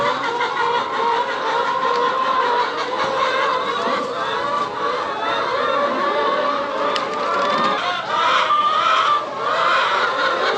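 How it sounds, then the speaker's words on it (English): A flock of chickens clucks and squawks excitedly over a loaf of bread tossed into their pen, a constant overlapping chorus of loud, close bird calls with no speech. "Pop-Pop just threw a whole loaf of bread in here for the chickens."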